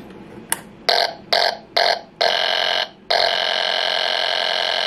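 A timing buzzer on a Slick 4300 series aircraft magneto with its points open sounds as a harsh steady electronic tone, first in four short pulsing bursts, then in longer continuous stretches, loud and close with no talk.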